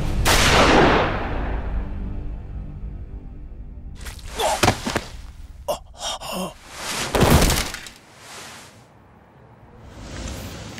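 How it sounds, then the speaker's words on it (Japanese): Gunfire in the video game Yakuza Kiwami 2: a loud, sharp blast opens, then a series of separate impacts, thuds and a groan-like voice, with a quieter stretch at the end. "銃声がしたから駆けつけたのよ"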